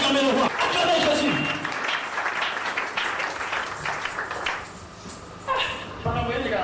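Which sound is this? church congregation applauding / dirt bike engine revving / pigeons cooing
church congregation applauding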